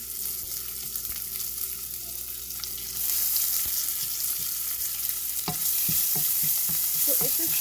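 Ginger and garlic hit hot oil with cumin seeds in a pan, giving a steady close sizzle that swells partway through. Light spoon taps and scrapes of stirring come near the end.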